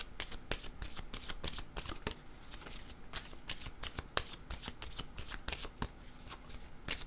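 A deck of cards is shuffled for a card reading, producing dense, continuous riffling and flicking close by, with sharp slaps of cards scattered through the steady shuffle.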